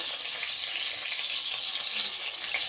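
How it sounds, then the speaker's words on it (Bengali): Stuffed pointed gourds (potol dolma) are stirred lightly in hot oil, giving a bright, steady sizzle close by without talking. "এইবারে ওই পুর ভরা আমি পটল কটা হালকাভাবে তেলে একটু নাড়াচাড়া করে নেব"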